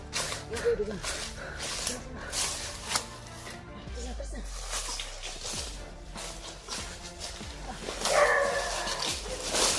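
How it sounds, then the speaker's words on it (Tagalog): Several dogs bark in a Filipino-language multiplayer action game, sharp repeated woofs scattered across the scene amid gunfire-like game noise and players talking over it. "Mga aso sila kasama."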